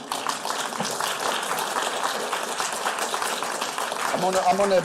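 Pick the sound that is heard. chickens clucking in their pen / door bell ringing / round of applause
round of applause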